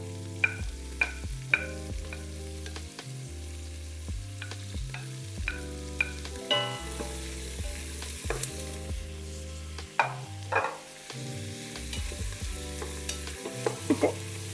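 Garlic and onion sizzle and fry in a pan while a utensil stirs them, giving a steady close hiss broken by frequent scraping and clinking strokes, with no voices.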